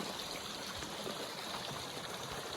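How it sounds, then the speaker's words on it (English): Small waterfall on a creek in springtime Montana, a steady close rushing and splashing of water with no pauses, moderately loud and alone. "Watching the waterfall."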